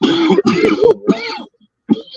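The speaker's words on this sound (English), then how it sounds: "That's why I'm coughing." A few rough throat-clearing coughs in quick succession, close and loud, followed by a short pause and one more brief cough.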